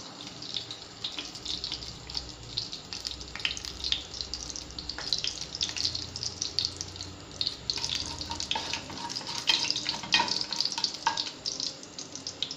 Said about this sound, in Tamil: ஜீரகம் காயம் எண்ணெய் சூடான உடனே தூக்கி போட்டிருக்கேன்.